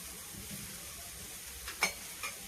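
A cheese dosa fries on a hot pan, its soft, steady sizzle running quietly throughout, with a couple of brief scraping taps near the end and no talk.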